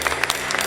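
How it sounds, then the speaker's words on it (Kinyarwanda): A church congregation at a women's convention claps hands together in a dense, steady burst of applause, loud and close, with a faint voice underneath. "now let's clap for our God"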